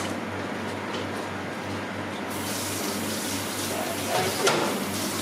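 A steady stream of tap water runs over a cutting board that was used for meat as it is rinsed in a sink, with a constant gushing sound and some brief splashing near the end.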